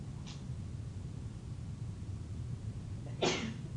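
A single sharp sneeze from someone in a chemistry lecture room, sudden and fairly near near the end over a low steady room hum, with a fainter breathy burst earlier.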